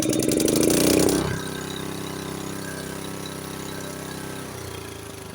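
A Honda HS828 snowblower engine settles from a brief louder burst into a steady, close idle, its even mid-pitched running hum continuing alone without any talk.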